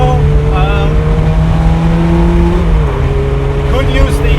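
A Ferrari F430 Spider engine held around 5,000 RPM in sport mode, a loud sustained tonal drone with the pitch sliding up and down, continuous throughout at close range.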